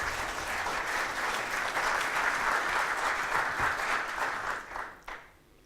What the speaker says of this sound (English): a warm round of applause to all of us for having made it here